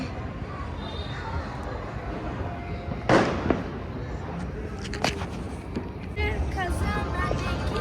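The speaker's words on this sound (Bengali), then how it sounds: "এদিক দিয়ে বাজি ফাটছে, ওই দিক দিয়ে বাজি ফাটছে, সেই দিক দিয়ে বাজি ফাটছে" Fireworks burst over a field, with one loud crack near the middle, a second sharp pop soon after and fainter crackles at a distance, all under a steady outdoor murmur while a person talks throughout.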